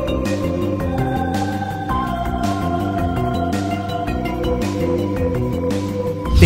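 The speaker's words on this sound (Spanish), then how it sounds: "El tritono está presente en este tema y suena más o menos así." A dark synth theme from the Duff McWhalen underwater stage in Mega Man X5 plays steadily, with sustained notes built on a tense tritone interval above a repeating bass line.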